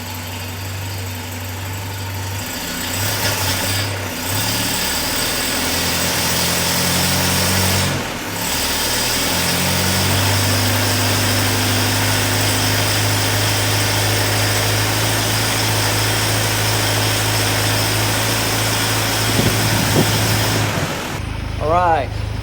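A rebuilt Land Rover 2.25 engine idles steadily for the whole stretch, a constant low hum with a faint mechanical rattle, loud and close.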